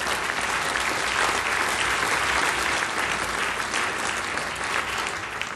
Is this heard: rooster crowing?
no